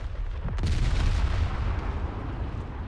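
A warship's cannon salvo in War Thunder Mobile, a loud deep boom that hits just after the start and rolls into a long rumbling decay, with no talk over it.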